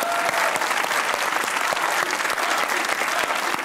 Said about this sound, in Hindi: तालियां बजाओ मेरे लिए यार।